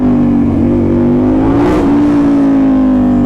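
A Suzuki SV motorcycle engine revs hard and close, a loud steady drone that rises in pitch as it accelerates, with no talk over it.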